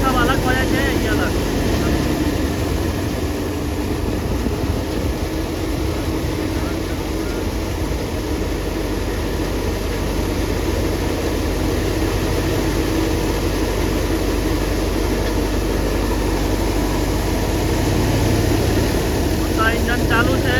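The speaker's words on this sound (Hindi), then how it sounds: "इंजन चालू है, एतऽ थ्रेसिंग भऽ रहल छै।" A tractor engine runs a wheat threshing machine in a school field, a loud, steady mechanical roar that continues unbroken throughout.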